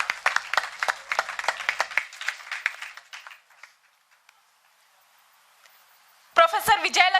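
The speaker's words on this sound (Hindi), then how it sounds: "जोरदार तालियों के बीच स्वागत कीजिए" An audience claps in lively applause to welcome guests onto a stage at a literature festival. The clapping fades into near silence after about three seconds, and then a voice begins speaking.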